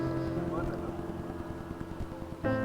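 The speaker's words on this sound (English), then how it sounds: "So this is how the scooter starts." A Suzuki Avenis 125 scooter engine runs with a low, steady putter of rhythmic pulses, then surges louder just before the end.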